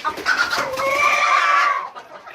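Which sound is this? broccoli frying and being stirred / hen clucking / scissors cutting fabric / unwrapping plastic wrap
hen clucking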